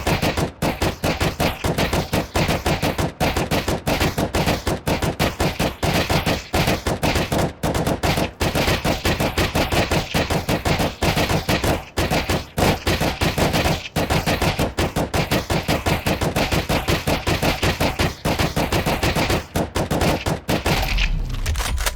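Relentless M4 rifle fire in CS:GO while shooting down bots in a workshop aim map, dense rapid bursts and single shots packed back to back for the full stretch, loud and close, with no pauses and no voices.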